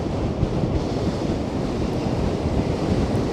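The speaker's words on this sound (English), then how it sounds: "That just shows how strong this wind is." Strong wind buffets the microphone over a stormy sea on the Blackpool seafront during 70mph gusts, a loud, steady broadband roar of surf and gusting wind that runs unbroken with no voices.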